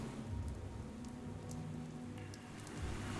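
Rain falls steadily in the video game Pathologic 3, a soft continuous patter with a few faint clicks and taps on top and no talking.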